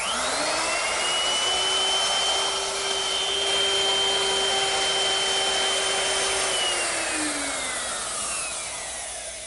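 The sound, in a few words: wood router with straight cutting bit cutting a tongue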